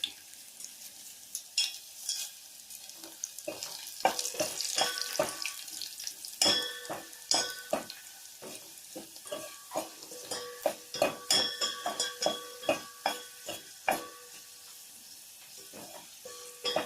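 Garlic, dried red chillies and curry leaves frying in hot oil, a steady sizzle broken by frequent sharp scrapes and taps of a spoon stirring in the pan, close and moderately quiet.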